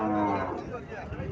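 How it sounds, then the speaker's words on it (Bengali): A Sahiwal breed bull calf, alongside a Haryana cow, lets out one long, loud, close moo that fades toward the end. "বাছুরটা সাইওয়াল জাতের বাছুর, বাছুরটা সার বাছুর।"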